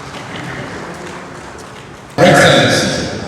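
Applause bursts out from a gala dinner crowd, a sudden loud wash of clapping that follows a stretch of quieter room murmur and gradually eases off.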